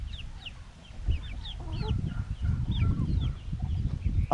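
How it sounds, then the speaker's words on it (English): Chickens cluck and chirp close by, with several quick, rising calls scattered over a busy, rumbling farmyard background that grows louder partway through. "We could see the chickens coming, Phyllis."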